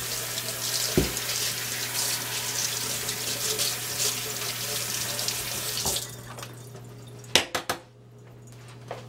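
Kitchen tap running steadily into a sink while a dropped stirring utensil is rinsed, a continuous close splashing that cuts off near the end, followed by a few clinks and drips.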